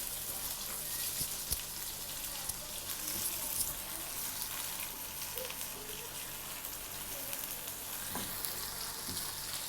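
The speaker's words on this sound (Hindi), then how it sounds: "इसको ऐसे फ्राई कर लेते हैं ना तो फिर इसकी स्मेल ख़त्म हो जाती है" Chicken pieces frying in a pan, a steady soft sizzle with faint crackles running throughout, fairly quiet and close, with no talking over it.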